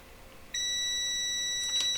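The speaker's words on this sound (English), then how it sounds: "So let's put the meter in continuity mode." A multimeter set to continuity mode, used during repair of a Nespresso Essenza Mini C30 coffee machine, sounds one sustained high-pitched beep that starts after a brief quiet moment and continues to the end.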